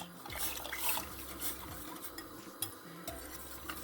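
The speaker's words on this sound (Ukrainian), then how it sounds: "І тепер стою і мішаю" Hot boiled milk mixture for a quick dessert is stirred in a pot, a spoon scraping and swishing in soft repeated strokes with faint clinks against the metal, close and fairly quiet.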